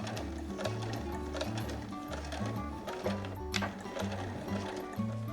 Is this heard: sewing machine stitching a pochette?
yes